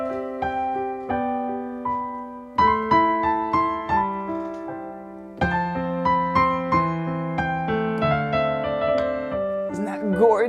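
Keyboard played with a slip note technique, one scale note sliding into its neighbour inside sustained chords, heard alone with a steady, clean tone and several fresh chord attacks.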